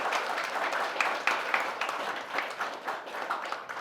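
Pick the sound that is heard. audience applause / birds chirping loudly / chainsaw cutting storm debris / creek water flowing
audience applause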